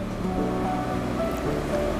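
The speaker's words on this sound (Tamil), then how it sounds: "இப்போ நம்ம கொஞ்சமாக மட்டும் தண்ணி சேர்த்துக்கலாம்." Water added to masala frying in oil for a potato kurma, giving a steady, continuous rushing and sizzling wash that holds at an even level throughout with no talk.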